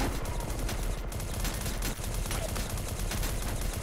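Dense, continuous gunfire from E.Y.E: Divine Cybermancy as shooters angrily fire into a doorway. Loud overlapping shots blur into a steady fusillade with no break.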